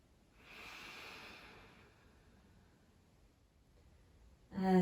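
A close, deep yogic breath in a quiet room: a long airy inhale swelling and fading, then a quieter drawn-out exhale, ending in a sudden louder sound at the very end.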